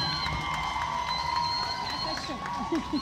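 Audience at the Miss Saint-Martin/Saint-Barthélemy 2018 beauty pageant cheers and claps in a steady, dense roar, with whoops and shouting voices mixed in throughout.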